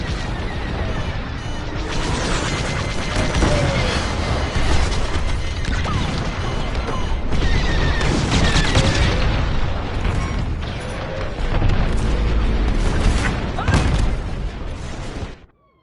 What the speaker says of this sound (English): Missile coming my way!